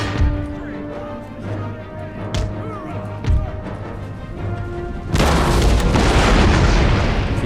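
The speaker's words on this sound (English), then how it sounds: "Howitzer firing." Howitzer artillery firing in the Empire Total War video game, a few deep booms and thuds over a rumbling battle din that swells into a heavier, sustained roar in the last seconds, with no talk.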